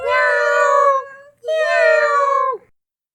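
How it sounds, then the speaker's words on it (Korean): Two long, drawn-out meows follow close together, loud and near with a short gap between them, used as a cat sound effect in a children's radio story. "고양이가 오고 있어."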